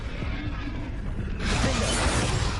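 The Confringo spell fires in Hogwarts Legacy: a soft swishing lead-in, then a bright shattering burst that holds loud and close to the end.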